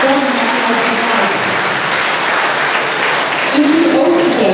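Audience applause at a mavo diploma ceremony at Hoeksch Lyceum, a steady dense wash of clapping from a hall crowd lasting throughout, with a voice or two audible underneath.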